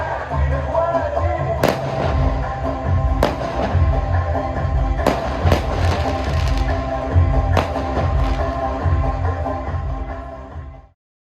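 Fireworks bursting over dinner near the Cairo pyramids at a hotel, a run of sharp pops and booms spread across a continuous loud background din of crowd and music.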